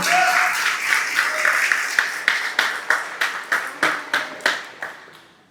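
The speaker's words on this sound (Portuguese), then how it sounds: "dá um forte aplauso ao Senhor Jesus" A church congregation claps in a loud, steady burst of applause that settles into rhythmic, evenly spaced claps toward the end, with no speech over it.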